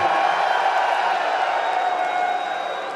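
A crowd at an esports semi-final at IEM Dallas 2023 cheers for a team, a dense, sustained roar of many voices that fades slightly toward the end.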